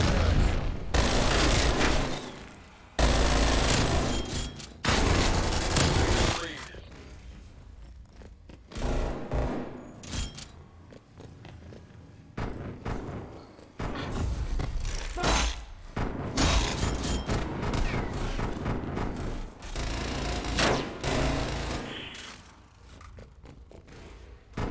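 Gunfire and shotgun blasts in Call of Duty Cold War multiplayer, loud bursts of shots and thumps coming in separate clusters with brief quiet gaps, mixed with game ambience.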